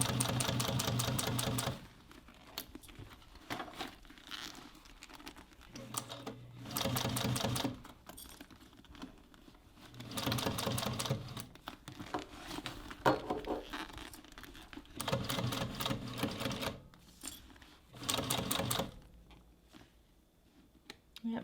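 A Juki sewing machine stitches a leather bucket bag in repeated rapid, rattling bursts separated by quiet pauses, with occasional metal clanking; a person talks quietly between runs.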